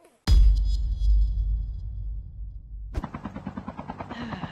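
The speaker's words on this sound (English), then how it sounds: "Where did you get that chopper?" A helicopter in Call of Duty Mobile battle royale, heard after a loud sudden blast that decays, as a close rotor chop begins with rapid regular beats.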